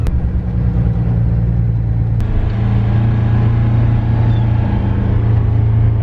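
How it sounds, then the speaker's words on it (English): A farm truck drives along with a steady, loud low engine rumble and road drone, heard from inside the cab with a couple of faint clicks. "I'll just get this truck home"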